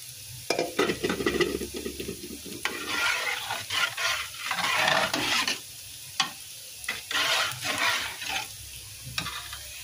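A spoon stirs date-jaggery kheer with thickened milk in a pot, with close scraping strokes and soft bubbling sizzle in uneven bursts, no talking.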